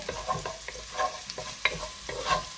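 Chopped garlic sautés in a hot pan for fish-and-gourd pesang dalag, a steady close sizzle broken by quick scraping stirs of a spatula, with no talking.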